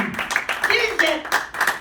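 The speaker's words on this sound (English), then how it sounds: "Clap your hand" A church congregation claps hands in scattered bursts under a voice as he keeps talking, the clapping moderately loud and uneven.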